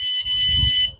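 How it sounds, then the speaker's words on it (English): Hobby Plus Terranaut 8-wheel-drive rear-steer RC truck emitting a steady, high-pitched electronic beep that holds for about a second at close range, with a low motor rumble underneath and no talking. "It beeps that way."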